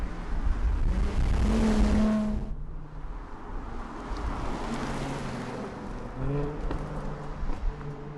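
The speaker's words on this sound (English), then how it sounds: "an engine we'd sampled in the convertible, with 280 kilowatts, 460 newton meters, and no problems with propelling the coupe forward at a decent rate" A Jaguar F-Type V6 S coupe with a 280 kW engine accelerates, its engine note rising in pitch as it gains speed, loud and close with strong road and wind noise.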